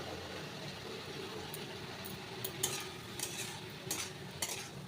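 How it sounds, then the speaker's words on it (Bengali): Leafy greens frying in a pan with salt and turmeric, giving a soft continuous sizzle with a few brief stirring scrapes and clinks near the end. "আর এখন একটু হলুদ গুঁড়ো দিয়ে দেবো, দিয়ে শাকটা ভালোভাবে ভেজে নেব।"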